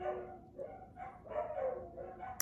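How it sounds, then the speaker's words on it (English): Dogs barking inside a house, a few moderately loud barks and yips in an irregular burst, heard alone without talk. "Sorry, dogs are barking."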